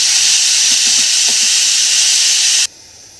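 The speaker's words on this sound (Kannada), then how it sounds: "ನೋಡಿ ಆಗಲೇ ಕುಕ್ಕರು ವಿಷಲ್ ಬರೋಕ್ಕೆ ಶುರುವಾಗಿದೆ." A pressure cooker whistle blasts steam in a loud, close, continuous hiss that holds steady, then cuts off abruptly near the end, leaving a faint background.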